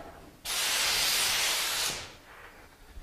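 A compressed air spray gun turned up to high pressure for a wide fan releases one loud, steady hiss lasting about a second and a half, then cuts off, leaving a quiet room with no voices.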